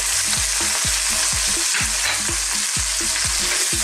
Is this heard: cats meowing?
no